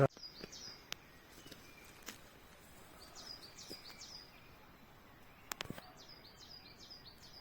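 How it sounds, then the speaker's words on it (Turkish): Small birds sing in a garden near Kemer, Antalya, with faint, high repeated chirping phrases drifting in from a distance over a soft outdoor hiss, punctuated by a few sharp nearby clicks. "Kuş seslerini duyuyorsunuz."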